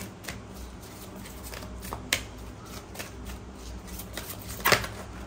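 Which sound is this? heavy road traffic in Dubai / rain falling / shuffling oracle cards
shuffling oracle cards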